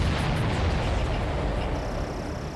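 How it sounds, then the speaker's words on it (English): A loud, rumbling blast in Ace Combat 7 fills the clip with dense, broadband noise that slowly fades, like a big explosion echoing. "Did you see that explosion?"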